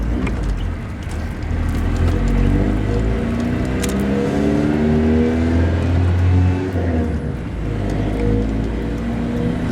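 A 1942 Ford pickup with headers, dual exhaust and a two-barrel Weber carburetor drones steadily while driving, its low engine note rising and falling gently with throttle and road noise, and no voices over it.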